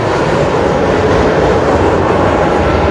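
Khulna–Chilahati passenger train at Hardinge Bridge near Pabna, heard as a loud, close, continuous roar of wheels and rattling wagons with a faint clickety-clack and no voices.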